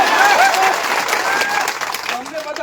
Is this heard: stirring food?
no